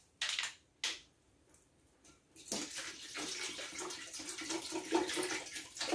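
Fresca soda poured from a bottle into a holiday punch bowl, a steady fizzing pour after a couple of short splashy bursts, close and fairly quiet, with no talking.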